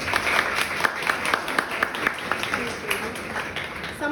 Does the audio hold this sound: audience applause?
yes